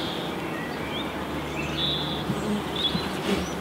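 Honeybees in an open beehive make a steady, dense, close buzzing hum, with faint chirps of birds or insects above it.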